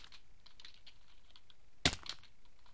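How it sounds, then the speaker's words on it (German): A computer keyboard is being typed on frantically while a Minecraft game is played. A quiet patter of rapid keystrokes runs throughout, broken by one sharp, loud key slam near the middle. The sound is close, with no talking. "Man hört höchstwahrscheinlich wieder, wie extrem hektisch auf meine Tastatur rumgehauen wird."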